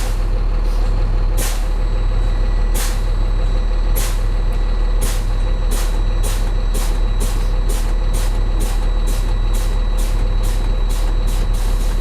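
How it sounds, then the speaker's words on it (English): A truck's air brakes are repeatedly applied, producing a series of sharp, loud hissing bursts of released air at irregular then quickening intervals over a constant heavy engine idle, close by, no talking. "Now I want you to apply the trailer brakes or the foot brake until you get down somewhere between 20 and 40 psi."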